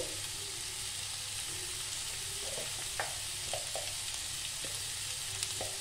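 Pumpkin cooking in a pan with chili, salt and spices, giving a steady close sizzle with a few soft scraping stirs scattered through.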